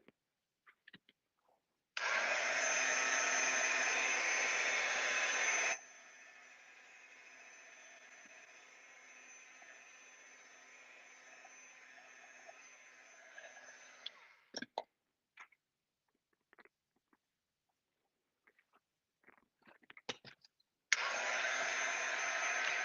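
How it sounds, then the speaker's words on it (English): A heat gun starts with a loud blowing hiss, then drops to a quieter steady whir for several seconds, cuts off among faint clicks, and returns at the end, during Japanese suminagashi paper marbling. "Sorry for the noise. Heat gun."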